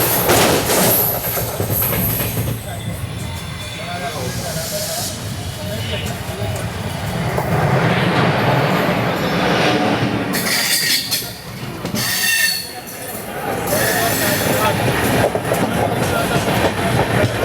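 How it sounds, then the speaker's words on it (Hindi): The Sainagar Shirdi–Mumbai Vande Bharat Express passes close by, a loud sustained roar of rolling coaches with clattering wheels and squealing, the rush surging and easing as cars go by, with a voice talking over it. "Crossing Sainagar Shirdi Mumbai Vande Bharat express."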